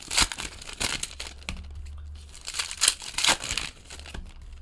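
Bowman baseball card pack wrappers crinkle and tear in quick bursts, close and fairly loud, with crackling handling of the paper foil between short quieter pauses.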